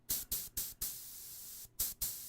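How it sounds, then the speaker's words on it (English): An airbrush spraying paint at low flow gives off a run of soft, breathy hissing bursts, each a fraction of a second long with brief gaps between them, close and fairly quiet. "There you go, it's spraying perfect."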